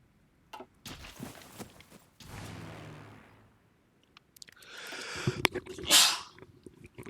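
A single loud human sneeze bursts out near the end, preceded by faint rustling and soft handling noises in an otherwise quiet room.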